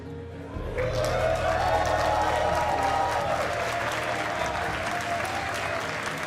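Loud, sustained crowd cheering and applause at an esports playoff tournament, a dense wall of clapping and shouts that swells after a brief quieter start and holds steady.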